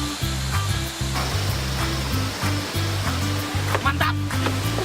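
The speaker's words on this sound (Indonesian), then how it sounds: "Dan alhamdulillah kita sudah sampai di air terjun Harapai." Haratai waterfall roars as a steady broadband rush of falling water, partly covered by loud rhythmic music with a pulsing low beat playing over it throughout.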